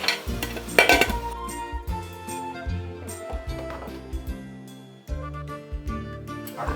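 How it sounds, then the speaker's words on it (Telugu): A spoon clatters and scrapes against a pan while cluster bean curry is stirred. The knocks come in quick, irregular bursts, loud and close, with short pauses between them. "అడుగంటకుండా బాగా కలుపుకోవాలి"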